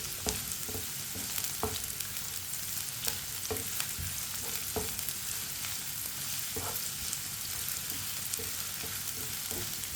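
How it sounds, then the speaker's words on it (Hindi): Finely chopped onions browning in a pan of hot oil, a steady soft sizzle broken by repeated light scrapes and taps as a spoon stirs them, close up and without talk. "प्याज को ना इसी तरह चम्मच चलाते हैं ब्राउन करना, नहीं तो एक साइड से जल जाता है"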